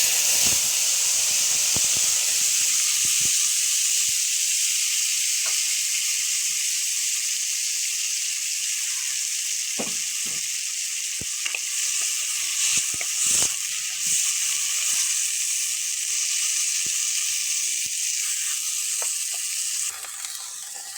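Two large washed and chopped onions sizzle steadily in hot oil, a loud continuous frying hiss with scattered crackles and pops, no voices.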